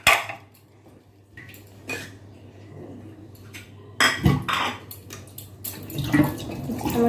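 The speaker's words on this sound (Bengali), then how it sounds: "কাপ প্লেট থেকে ধুয়ে নিই।" Cups and plates being washed by hand, with ceramic clinks and clatters, splashing and running water in bursts, close by, with quiet stretches between.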